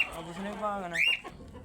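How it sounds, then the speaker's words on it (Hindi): A chicken clucks and calls close by as chickens are let out to eat grain, a short rising squawk over faint background noise. "अब्दुल्ला जो है वो मुर्गियों को निकालेगा ताकि वो भी दाना उनका खाएं"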